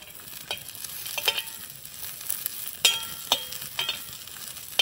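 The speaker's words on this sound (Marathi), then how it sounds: "कांदा भाजत आला की खोबऱ्याचे काप टाकून द्यायचे, ते भाजून घ्यायचे आहेत।" Onion and coconut slices roast in oil in a pan, stirred with a spoon, giving soft scraping clatters over a faint sizzle.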